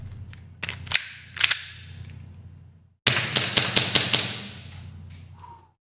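Airsoft gun firing indoors: a few sharp single shots come first, then after a pause a rapid burst of crisp snapping shots, close and fairly loud, with no talk over them.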